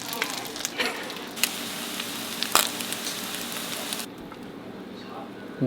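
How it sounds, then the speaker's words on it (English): A patty fries in a piping hot pan, a steady broadband sizzle with brief crackling pops, loud and close, easing off near the end. "We're gonna throw it in this piping hot pan because our stove is broken."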